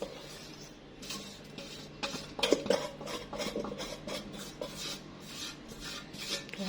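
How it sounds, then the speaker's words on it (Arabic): A rice kofta mixture kneaded by hand in a larger bowl, soft rhythmic squishing and rubbing strokes with a few light knocks against the bowl, close and quiet, no talk. "بصوا هكمل عجن بايدي بقى، هنزلها بول اكبر شويه"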